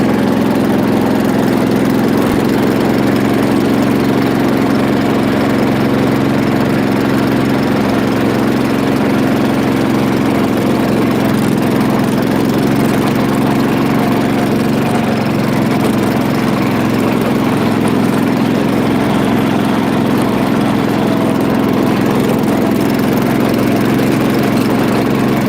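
An old John Deere engine idles steadily with the choke pulled all the way down, giving a continuous, close, loud low rumble that runs unbroken for the whole stretch with no talking.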